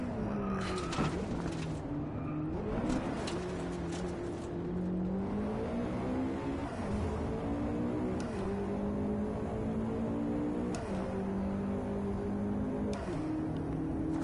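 A racing car engine in the Driveclub video game, played on a Thrustmaster T150 Pro wheel with a shifter, revs up and climbs through the gears. Its steady roar dips briefly at each gear change, and a few skids and clicks come through with no one talking.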